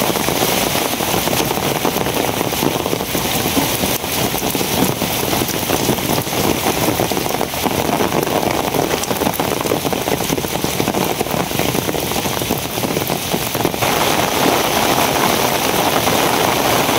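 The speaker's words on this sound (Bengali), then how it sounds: "প্রচুর বৃষ্টি হইতেছে।" Heavy rain pours down in a dense, unbroken hiss of drops on surfaces, loud and steady for the whole stretch, with a faint low rumble underneath and no talking.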